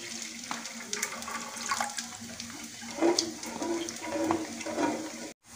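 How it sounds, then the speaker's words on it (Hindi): Water poured from a bowl into simmering chana masala gravy in a home kitchen, a steady close splashing and trickling that swells in bursts for several seconds before cutting off abruptly. "तो हम इसमें दो कटोरी पानी ऐड कर देते हैं।"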